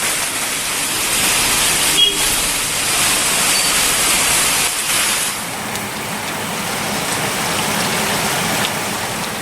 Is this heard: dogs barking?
no